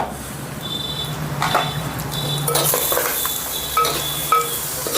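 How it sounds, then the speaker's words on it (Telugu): Boti tripe curry crackles and sizzles in a hot clay pot, a steady close hiss with scattered pops and clinks of utensils against the pot. "అంతా కుండలో బోటి పటపట టప్ అంటుంది."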